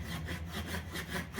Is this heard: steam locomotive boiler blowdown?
no